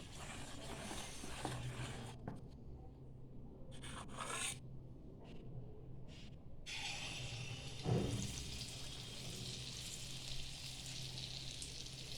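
Banana malpua batter fries in hot refined oil with a soft, steady sizzle and occasional scraping, fairly quiet and continuous with no voices.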